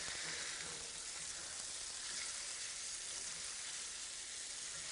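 Chicken pieces sizzling steadily in a hot skillet just after being flipped, a dense, continuous frying hiss that stays even and close throughout with no voices.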